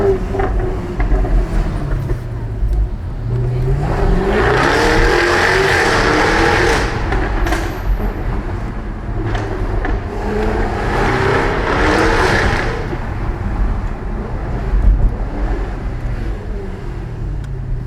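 A Jaguar F-Type accelerates hard on a road, its engine climbing in repeated rising sweeps. The engine drones loud and close, with no talk over it.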